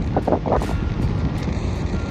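Strong wind buffets the microphone in a constant low roar, with gusty rumbling throughout.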